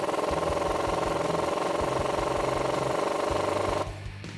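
A 15mm wrench and socket tightens the sway bar end link on a 2007-2018 Silverado or Sierra 1500 during a leveling kit install, giving a loud, steady mechanical rattling drone that cuts off near the end.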